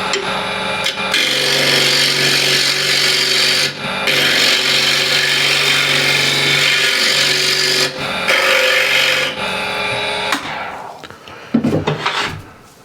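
A woodturning lathe gouge cuts a rough tenon on the bottom of a Katalox wood blank, making loud, steady scraping hiss in long passes broken by short pauses, ending in a few scattered knocks and clatters.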